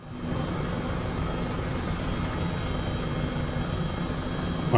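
Helicopter in Microsoft Flight Simulator 2020, flying toward Iceland's Fagradalsfjall volcano, producing a continuous steady rotor and turbine drone at even loudness throughout.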